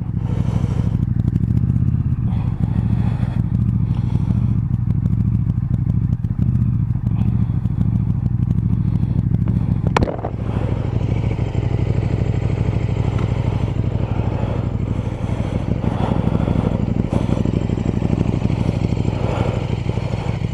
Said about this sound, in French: Voilà la KTM Super Duke R.